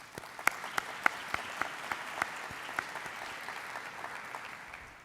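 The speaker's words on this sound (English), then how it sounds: "Let's give them all a big round of applause." A small crowd at a mobility forum claps, with a few sharper claps standing out at first, and the applause then settles into a steady patter that fades slightly.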